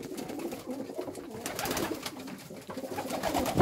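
Homing pigeons coo in a pigeon loft, soft repeated throaty calls overlapping close by with light rustling and no talk.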